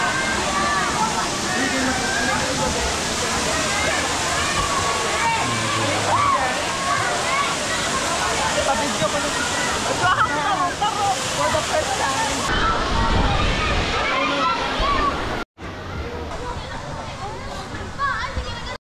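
Mountain spring water pours into a resort swimming pool in Valencia, Bohol, a continuous loud rushing splash with voices faintly mixed in.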